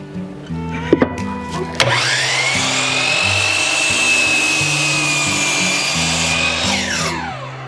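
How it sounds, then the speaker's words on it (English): Miter saw spinning up and slicing through a glued-up wooden board, cutting it in half; a loud, sustained high whine with a few clicks at the start, then the motor winding down at the end. "take it over here to the miter saw and cut it in half"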